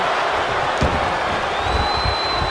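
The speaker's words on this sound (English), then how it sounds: "As the crowd, you can hear it is loud." Loud wrestling arena crowd in the video game WWE 2K26, a steady dense roar with a few thudding impacts, filling the whole stretch without letup.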